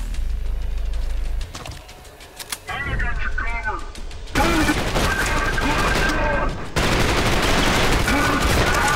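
Dense, continuous gunfire from the shooter video game Trepang2, loud rapid bursts and sustained automatic fire with booming impacts, with a voice talking partway through.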